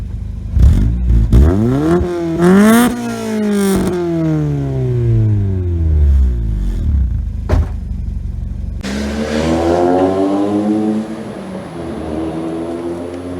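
A Honda Civic SiR II EF9's B16A VTEC engine revs up sharply several times, its pitch climbing and falling, then settles and revs again with a rising whine; loud and close.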